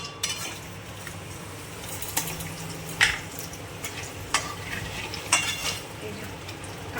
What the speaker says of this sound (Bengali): মাছ ভাজার তেলের মধ্যে একটু শুকনো লঙ্কা আর কালো জিরে ফোড়ন দিয়ে দেবো